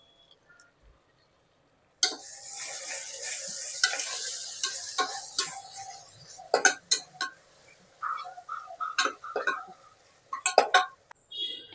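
Ginger garlic paste hits a hot pan for prawn biryani, setting off a loud steady sizzle, then a spatula scrapes and clinks against the pan in irregular bursts.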